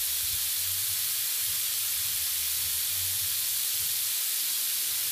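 Onion sizzling in a hot pan while beef is stir-fried for Ilocano imbaliktad, a steady soft hiss and crackle with low stirring bumps underneath, no talk.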